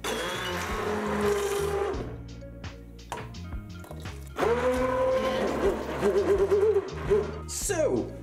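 A blender mixes broccoli soup with a loud mechanical whir that drops to a lower grinding hum, then climbs back to full power, all close up and with no talking.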